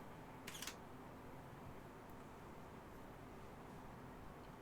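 Camera shutter firing at a slow quarter-second exposure, a single soft mechanical click-and-release near the mic, followed by quiet steady background hiss with no talking.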